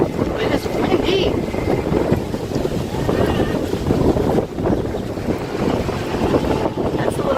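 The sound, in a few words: wind blowing at a resort walkway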